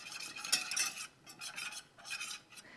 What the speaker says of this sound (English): Keep whisking. And you'll need to whisk that for 2 minutes.